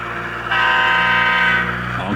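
A loud, close model railroad train horn sounds one sustained blast that steps up in intensity partway through.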